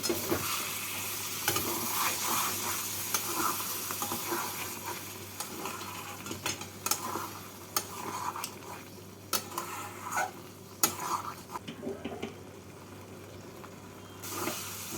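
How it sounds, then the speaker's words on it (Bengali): Spices and a splash of water are stirred with prawns for a vindaloo, frying in a pan with a soft sizzle beneath repeated close scrapes and clinks of the spoon against the metal. "এবার মশলাগুলোকে মাছের সাথে কষিয়ে নেব"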